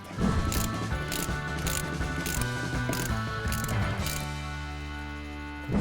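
A ratchet wrench clicks rapidly in repeated bursts as a bolt is unscrewed, close and clear, the metallic ticking pausing and resuming several times.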